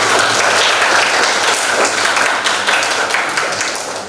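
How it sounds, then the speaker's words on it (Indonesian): Loud, dense applause from a secondary-school maths class in an Indonesian classroom, many hands clapping steadily for several seconds before tapering slightly. "Tepuk tangan untuk kita semua."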